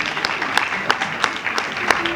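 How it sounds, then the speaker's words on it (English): An audience at a skills academy graduation ceremony claps for an honoured woman, a steady patter of many hands with rhythmic accents, heard briefly and at moderate level. "Let's clap for her."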